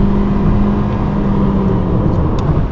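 Road and tire noise inside a Mazda CX-3 cruising at 110 km/h, a dense steady low roar with a constant hum and no speech over it.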